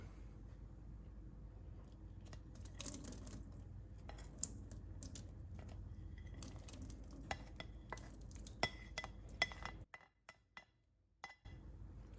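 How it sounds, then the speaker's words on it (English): Sausage goes back into a pot of Zuppa Toscana soup: a quiet scatter of clinks, taps and scraping stirs from a spoon against the pot, irregular and close, with a brief lull near the end. "Why don't you add the sausage back in?"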